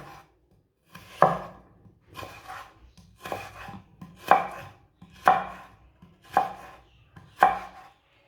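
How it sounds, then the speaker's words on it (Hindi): Potatoes are cut into long pieces on a board, seven or so distinct knife chops at roughly one-second intervals, each a sharp close thud with brief pauses of near-silence between, no talking. "आलूओं को ना इसी तरह काटना है, लंबे लंबे पीसों में।"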